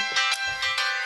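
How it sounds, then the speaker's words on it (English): A mobile phone ringtone rings in a short electronic melody of bright repeated tones, several quick bursts in a row, fairly loud and with no talking over it. "your phone is ringing."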